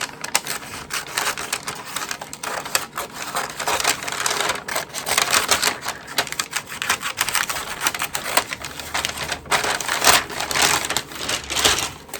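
Dense, continuous crunching and snipping of scissors through thick paper, close and steady, with repeated cuts and no talking.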